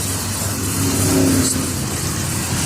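A 1999 Dodge Caravan wheelchair-accessible van cruising on the highway, heard as a steady engine drone with wind and road hiss and a slight rise in revs, no speech.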